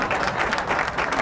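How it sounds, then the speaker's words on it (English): A live audience claps and cheers at a comedy show, dense and loud applause that continues without a break and without speech. "Stop clapping."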